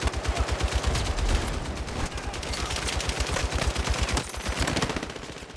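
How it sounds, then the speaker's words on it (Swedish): Rapid, close bursts of automatic gunfire from light machine guns and sniper rifles in the video game Battlefield 6, sharp shots repeating steadily with no pause. "Från den tunga känslan i LMGs till det skarpa snäppet i prickskyttegeväret så levererar de en stor verklighetskänsla och tyngd i deras olika ljud"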